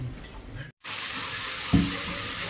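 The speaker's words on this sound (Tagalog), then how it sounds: "Ligo si Bikoy sa bathtub, naka-shower pa, o naka-heater pa" Water from a running shower pours steadily into a bathtub, a continuous broadband hiss after a brief gap, with a short knock near the end.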